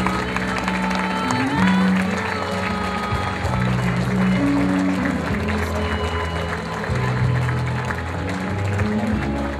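Applause at a family ceremony or celebration, loud and sustained across the whole stretch, mixed with a dense crowd murmur, music-like tones and voices underneath.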